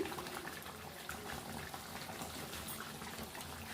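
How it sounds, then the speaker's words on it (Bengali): Lobster malai curry seasoned with half a spoon of garam masala, simmering in a village kitchen, gives off a steady, soft bubbling hiss that carries on without a break. "এক মিনিটের মতো গরম মশলাটা একটু ফুটিয়ে নেব"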